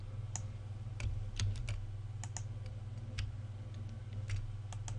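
Typing on a computer keyboard, including a press of the enter key: scattered, sharp clicks in irregular bursts over a steady low hum.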